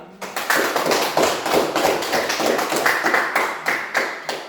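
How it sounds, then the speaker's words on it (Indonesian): A group of students claps in quick, continuous applause for a classroom group, with dense overlapping hand claps close by for several seconds. "Oke, tepuk tangan untuk kelompok 2."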